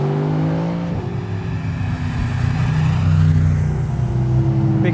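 Mercedes SLS AMG Roadster with its 6.2 V8 running with the roof off, a deep, loud engine drone that dips and then swells as revs rise, heard close from inside the car.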